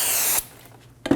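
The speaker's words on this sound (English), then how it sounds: "I'm going to put my rotor on backwards and spray it down with some brake parts cleaner." Brake parts cleaner sprays from a can onto a front brake rotor of a 2008-2015 Scion xB: a steady, loud hiss that cuts off, then a short metallic clunk after a brief quiet gap.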